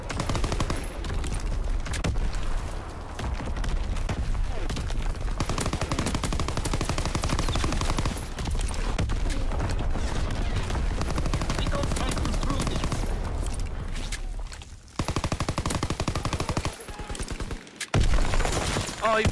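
An artillery barrage in a WW2 shooter game, with dense rapid gunfire and booming impacts packed continuously throughout, loud and close, with a player's voice speaking over the din.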